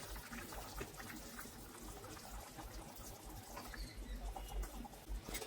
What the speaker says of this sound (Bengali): এবার দিয়ে দেবো ভেজে রাখা মাছ।